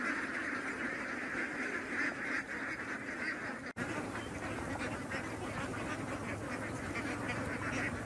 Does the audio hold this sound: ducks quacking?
yes